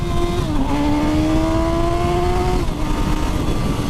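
A Suzuki GSX-S motorcycle accelerates hard at full throttle with traction control on, its loud engine note climbing steadily through the revs, briefly dipping at a shift, then pulling on again, close and continuous with no talking.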